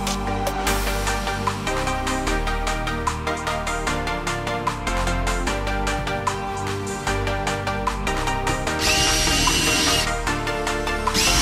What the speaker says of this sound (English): We can screw and glue together.